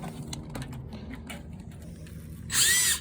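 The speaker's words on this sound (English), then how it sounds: "probably just use a wire bristle and a drill and see if I can knock the rest of that out" A power drill spins up a 1-inch wire bristle brush against a broken water heater drain valve, a loud bright whir bursting in near the end after quieter clicks and handling noise.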